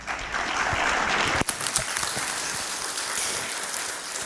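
An audience at a county candidate forum applauds steadily for the candidates, a dense patter of clapping throughout with one sharp knock midway.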